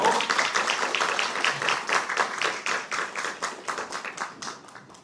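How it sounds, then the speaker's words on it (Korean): Church congregation clapping to welcome a missionary speaker at a Japanese-language worship service, a steady, moderately loud patter of many hands that thins slightly toward the end. "큰 박수로 환영해 주십시오"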